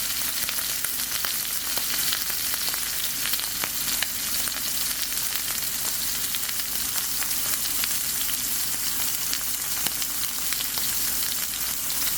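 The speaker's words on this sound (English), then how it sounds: "we are ready for this beautiful top sirloin to get its sear on" A top sirloin steak sears in a hot pan with a loud, dense, unbroken sizzle and crackle that holds steady throughout.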